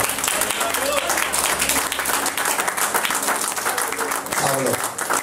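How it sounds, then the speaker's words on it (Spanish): A church congregation applauds during a worship service, dense sustained clapping heard close and loud, with a voice talking over it. "Den un aplauso a Cristo."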